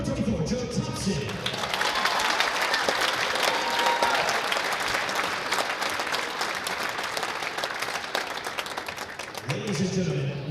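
Crowd applause fills a basketball arena honoring men's basketball seniors at a game against Baldwin Wallace, sustained steady clapping with some cheering, with a voice speaking briefly over it at the start and end.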